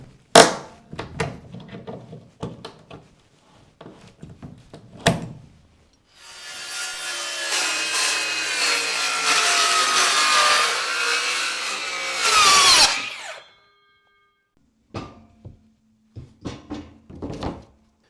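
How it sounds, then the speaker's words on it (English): A handsaw cutting through a plywood sheet in a cluttered workshop, a steady rasping run of strokes lasting about six seconds after a few light knocks, ending with the offcut dropping, then more scattered handling clatter. "I just need to trim it about 6 inches off the end."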